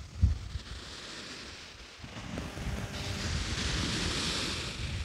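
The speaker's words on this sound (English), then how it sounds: "I think it's just wind." Wind gusting at a UK beach while sea fishing, a broad steady rush that swells after a couple of seconds, with surf rumbling and a brief thump near the start.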